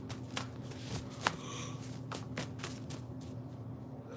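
Tarot cards shuffle in brisk riffling bursts close to the mic, a steady run of soft flicks and taps over a low room hum, with no talking.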